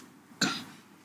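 A single sharp cough, close and fairly loud, with a short fading tail; no talking around it.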